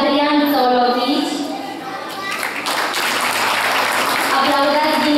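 Audience applause at a folk music festival contest in Dumbrăvița, steady clapping over a harmonic music bed with a voice speaking on top, dipping briefly mid-way before swelling again.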